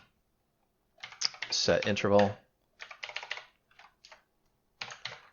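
Fast typing of code on a computer keyboard in dense bursts of clicks with short pauses between them, close and clear, with brief speech in between.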